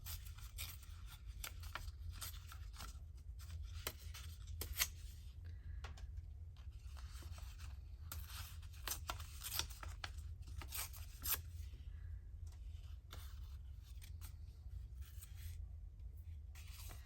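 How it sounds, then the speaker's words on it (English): Paper being torn carefully by hand around a printed image, a run of short soft rips and crinkles spread unevenly over a steady low hum, with no voices. "I'm going to do a fussy tear"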